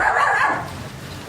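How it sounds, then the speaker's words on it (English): A dog barks in an old radio drama, one short close burst of yapping bark that fades quickly, with no one talking over it. "What's your dog barking at, Mrs. Haynes?"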